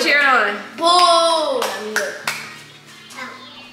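Family cheering at home during a soda-matching game, a burst of excited children's and adults' voices with a few sharp hand claps among them, loud and close.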